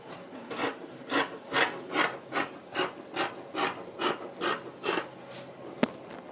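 Scissors snip steadily through fabric while cutting out the back piece of a padded bustier blouse, about ten rhythmic, close rasping cuts at an even pace with no talking.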